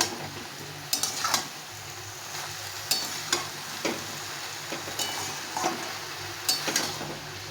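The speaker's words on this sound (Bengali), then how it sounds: "এগুলো সব দিয়ে ভালো করে নাড়তে হবে।" A spiced vegetable curry is stirred in a pan, giving a soft continuous fry hiss broken by regular scraping strokes and light clinks of the spoon against the metal.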